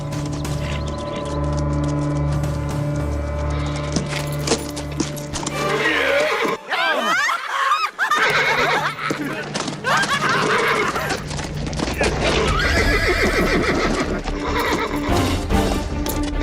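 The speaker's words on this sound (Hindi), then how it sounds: "अरे ये घोड़ा पागल है क्या?" A horse whinnies loudly and repeatedly amid hoof clatter and a busy background of music and voices, with a brief break in the middle.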